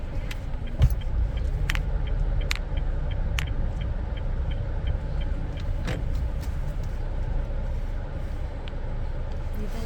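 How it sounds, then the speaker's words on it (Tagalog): A car pulls into a shaded spot to park, giving a steady, close low engine rumble throughout with occasional sharp clicks and knocks over it. "Dito ako mag-park sa sa malilim para hindi mainit"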